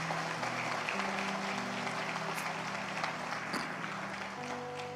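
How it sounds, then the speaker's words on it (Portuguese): Sustained applause from a church congregation, a broad even wash of clapping lasting several seconds, with sustained tones from instruments or a keyboard underneath. "Quem concorda com isso, aplauda o nome do Senhor."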